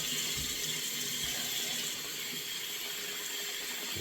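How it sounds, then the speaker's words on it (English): A washcloth is rinsed under a running tap during a facial, with a steady hiss of water flowing into a sink and no one speaking. "Rinse all of that mask out of your washcloth."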